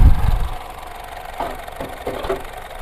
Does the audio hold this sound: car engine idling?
yes